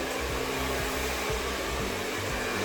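A hair dryer blowing hair dry for a lasting bouncy blowout, a loud, steady close whoosh with a constant motor whine running throughout.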